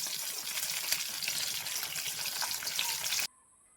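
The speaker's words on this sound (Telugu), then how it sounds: "ఇట్లనే మీ దగ్గర ఎన్ని ముక్కలు ఉంటే అన్ని ముక్కలు ఇట్లా గోలించుకోండి" Chicken pieces fry in a pan for homemade chicken mandi, giving a loud, steady hiss and crackle that cuts off abruptly near the end.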